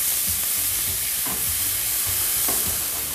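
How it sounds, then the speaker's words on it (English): Chopped red pepper and onion sautéing in a pan, a loud steady sizzle broken by a few scraping stirs of a utensil, close up and with no one talking. "I'm going to throw that in there with my onion. Again, just saute it a little bit until it's a little bit soft"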